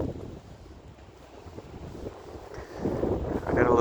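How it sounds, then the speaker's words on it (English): Wind blowing during a Boston blizzard, a steady whooshing rush with buffeting against the microphone that swells louder toward the end, heard up close outdoors. "you can hear the wind"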